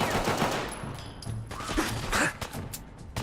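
Rapid gunfire in the video game Fallout 4, loud and dense bursts of automatic shots crackling continuously across the whole stretch with no talk over it.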